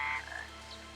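A frog croaks in the rain in Final Fantasy XIII: one brief, raspy chirping croak up close over a faint, steady background hum, with no talking.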